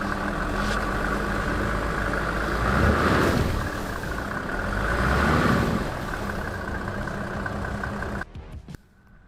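Engine of a six-wheel-drive G-Wagon built from a 1995 G300, straining steadily as it climbs an off-road obstacle, with a constant loud drone that swells twice and then drops away near the end.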